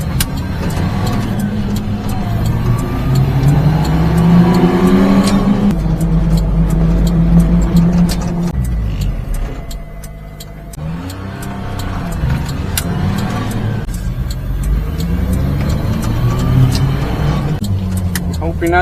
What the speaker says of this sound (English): Noisy compressor, eh?